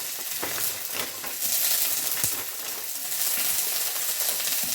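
Coconut pieces sautéing in a pan, a continuous bright sizzle with occasional stirring clinks and scrapes, no voices.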